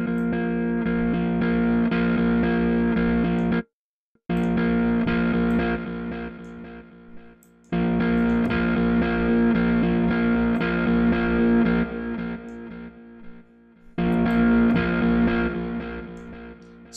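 Heavily distorted, buzzing synth tones play in long sustained stretches, cutting out abruptly between phrases, loud and upfront.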